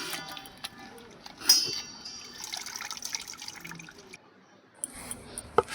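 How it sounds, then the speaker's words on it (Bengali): Water splashes and trickles as pumpkin flowers from a home garden are washed clean for fritters, with intermittent drips and sloshing close by and a short burst of running water near the end. "জল দিয়ে পরিষ্কার করে ফুলগুলো ধুয়ে নেব।"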